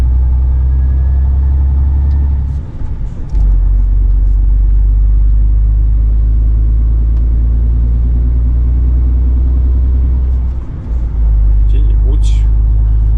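Steady low engine rumble of a car driving along a road, continuous and close throughout, with brief dips in the drone as the vehicle shifts or passes bumps; no voices.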